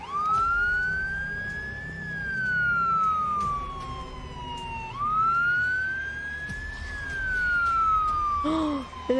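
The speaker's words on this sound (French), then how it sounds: "Actionner la sirène" Wailing siren set off in the video game The Walking Dead Destinies, a loud rising and falling electronic tone repeating over several cycles, with low game ambience underneath and no speech.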